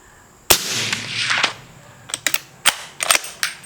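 A Henry Supreme .300 Blackout rifle fires one sharp, loud shot, followed by its echoing tail and several quieter sharp cracks from other shots farther off.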